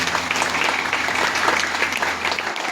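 Steady, dense applause from an Easter Sunday church congregation for a priest, fairly close and even for nearly three seconds before it cuts off.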